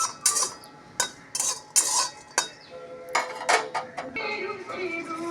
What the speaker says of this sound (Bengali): চাল মগজ আর কাজু শুকনো খোলায় ভেজে নিলাম।